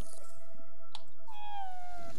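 A cat in the video game Ghostwire Tokyo gives two short meows, the second a drawn-out falling cry, heard clearly over soft game background sounds.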